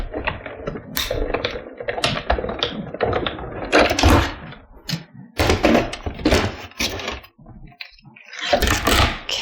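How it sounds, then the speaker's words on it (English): A die cutting machine running a stamp die through layered paper makes a series of uneven mechanical clicks, taps and rattling bursts, close and fairly loud with brief quiet gaps between them. "So I'm going to run that one through my die cutting machine as well."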